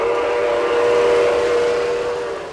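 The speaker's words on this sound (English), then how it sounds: "When you blow the whistle on one of our engines, for example, you, in most cases, are listening to an actual digital recording of the real-life counterpart" A Lionel model train engine plays a digitally recorded steam whistle, one loud sustained chord that holds steady before tapering slightly at the end.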